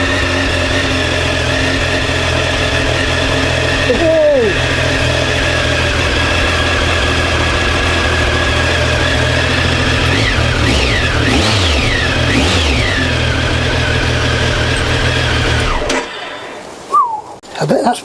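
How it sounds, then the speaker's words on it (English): A Triumph Tiger motorcycle engine, recently revived after ten years abandoned, idles loudly up close, rising through a few quick revs before cutting off near the end. "now we know the bike starts"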